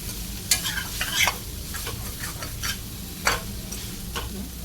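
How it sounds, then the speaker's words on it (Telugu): Ivy gourd (tindora) fries in a pan and is stirred now and then, with a steady sizzle broken by several sharp scraping strokes of a spatula. No one speaks. "మధ్య మధ్యలో కలుపుకుంటూ ఫ్రై చేసుకోవాలి లేదంటే మాడిపోతుంది"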